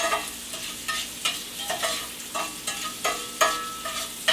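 Shrimp sautéing in a pan gives a soft, continuous sizzle broken by repeated scraping stir strokes at an irregular rhythm, fairly quiet and close, with no voices.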